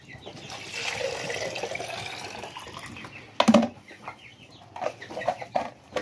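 Young chicks cluck and peep near a water feeder filled with medicated water, a soft busy chatter that rises into sharp louder clucks and tapping toward the end.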